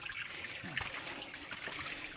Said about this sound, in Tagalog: So, ito lang ang tulo ng tubig.